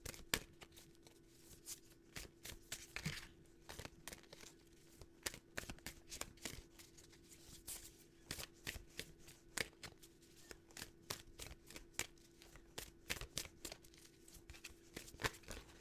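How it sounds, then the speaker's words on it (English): Tarot cards being shuffled by hand, soft close riffling and slapping in uneven bursts at low volume, repeating steadily against a quiet room hum. "Let's pull some more cards and see what's going on with that."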